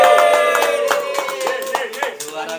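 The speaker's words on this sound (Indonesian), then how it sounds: "Tepuk tangan dulu." Audience clapping at a cattle contest in Jakarta, a steady patter of many hands with tonal music and some voices underneath, fairly loud and continuous throughout.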